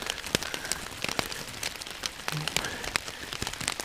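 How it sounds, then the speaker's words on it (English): Rain falling during a fishing outing, a dense patter of drops striking water and nearby surfaces with a few sharper close hits, steady and moderately quiet. "The rain is just coming down, and the fish, they don't care."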